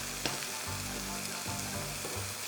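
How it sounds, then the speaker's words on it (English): Thin, hammered turkey steaks fry in a pan with a soft, steady sizzle and faint crackle, heard close but quietly, with no voices. "Now I'm all set to put in my turkey steaks"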